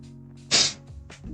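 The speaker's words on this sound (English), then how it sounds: "the sneeze knocked loose my sinuses" A single loud, sharp sneeze bursts out suddenly, followed by a brief sniff and a soft breathy sound in a quiet room.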